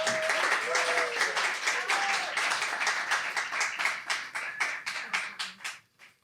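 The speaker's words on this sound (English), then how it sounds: "please welcome with a warm applause" Audience applause at a live storytelling performance of a Smoky Mountains legend, a dense wash of many hands clapping steadily for about six seconds before tapering off, with a brief musical tone near the start.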